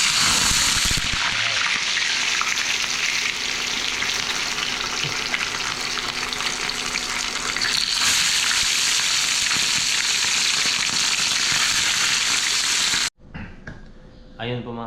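Loud, steady sizzling of fish frying in hot oil, a dense crackling hiss that runs almost the whole time, then cuts off abruptly near the end.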